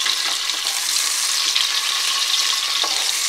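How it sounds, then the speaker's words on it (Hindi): Onions frying in hot oil with whole spices for a mutton dalia, a steady close, loud crackling sizzle that runs unbroken throughout, with faint stirring clicks and no voices. "तकरीबन एक मिनट हम अनियन को फ्राई कर लेंगे"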